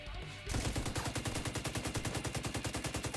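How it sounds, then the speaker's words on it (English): Gunfire from a sniper in the video game The Division 2, heard as a sudden, loud, sustained stream of rapid, evenly spaced shots hammering on without pause. No one speaks. "I'm getting shot to death"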